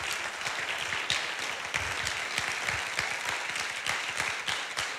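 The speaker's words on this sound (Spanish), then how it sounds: "Aplauso fuerte a tío Pedro." A church congregation applauds loudly after a visiting preacher's sermon, a dense steady wash of clapping that holds for the full stretch without speech over it.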